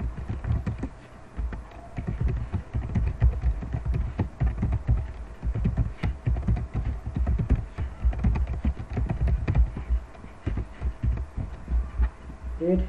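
Steady clicking of keys on a computer keyboard while HTML code is typed, a dense, fairly close patter of keystrokes with a low hum underneath and no voices.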